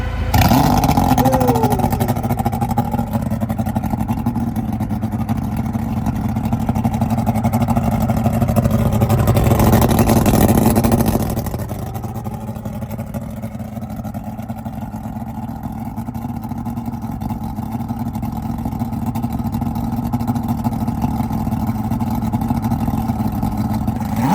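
A boat's outboard motor fires up after sitting unused for weeks and runs steadily, loud and close. The engine roars with a brief surge before it settles into a continuous lower drone.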